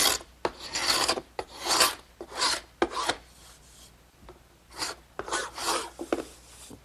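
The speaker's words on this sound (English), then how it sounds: "I'm just going to use an ordinary paint scraper" An ordinary paint scraper shaves squeezed-out glue beads off a glued-up wooden panel for a candle stand: close, raspy strokes come in short bursts separated by brief pauses.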